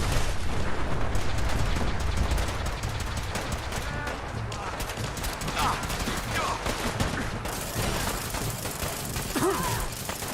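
Rapid bursts of gunfire in the video game Fallout 4 run steadily throughout, loud and close, with someone talking over the shooting.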